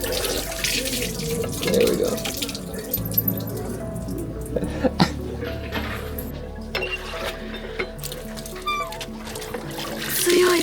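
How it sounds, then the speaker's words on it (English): Water gushes from a hand pump at a Tokyo temple, splashing and trickling in bursts as the handle is worked, with a person talking briefly over it. "I gotta pump this water."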